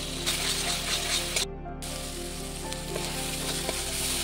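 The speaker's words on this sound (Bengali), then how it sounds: "এবার মশলাগুলো কষে নেব" Spice paste with chilli powder frying in hot oil in a wok gives a continuous close sizzle, with a brief drop-out partway through and a low hum beneath.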